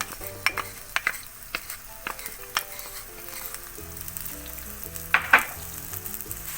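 Chopped garlic sizzling in a pan for vegan paella, a steady frying hiss broken by scattered clinks and scrapes of a utensil against the pan, with faint background music and no talking.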